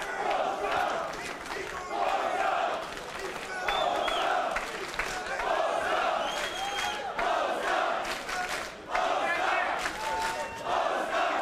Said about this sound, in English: Crowd rallying behind Lasczczyk.